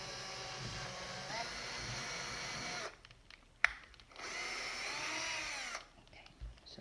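A power drill bores a hole for armature wire in two whining bursts, the first about three seconds long and the second shorter, separated by a quiet pause with a sharp click, heard up close.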